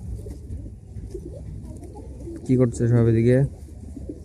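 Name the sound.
pigeons cooing in the loft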